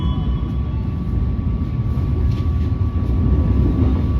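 KA Pasundan New Generation passenger train in Indonesia heard from inside the carriage, a steady low rumble of wheels and running gear with a faint high tone throughout, loud and continuous.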